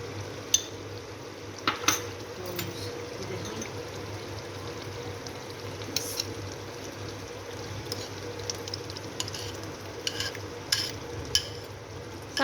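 Chicken karahi being stirred and mixed in a pan, a steady soft scraping and sizzling bed with scattered sharp clinks of a utensil against the metal, fairly close and without talk.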